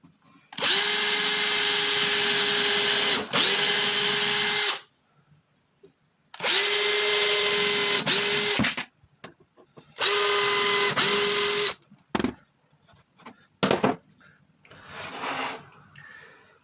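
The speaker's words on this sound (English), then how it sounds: "then just drill pilot holes again" A power drill whines loudly in three long bursts drilling pilot holes, separated by pauses, followed by a few short clicks and brief quieter noises.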